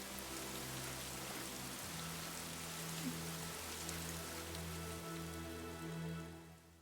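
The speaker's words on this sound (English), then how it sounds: "It just starts raining for no reason." Steady rain hisses down evenly in the video game Fire Emblem: Three Houses over a low droning hum, with no voices, filling the whole stretch without pause.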